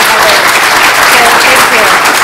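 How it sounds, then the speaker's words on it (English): Loud, dense applause from a conference audience thanking event organizers after a scientific talk, continuous and close throughout. "A big round of applause for Mary, who's outside, and Heather"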